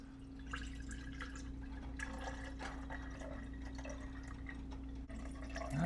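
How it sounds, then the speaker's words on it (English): Liquid drains off cooked pork belly in a steady, quiet trickle and drip, with soft splashy bursts over a constant low hum throughout. "We're going to drain this liquid off."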